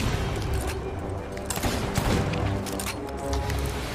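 Rapid gunfire in the pirate video game Sea of Thieves, aimed at the Kraken during a sea battle, crackles as dense overlapping shots over a busy game soundscape, with players talking faintly underneath.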